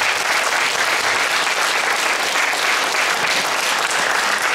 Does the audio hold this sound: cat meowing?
no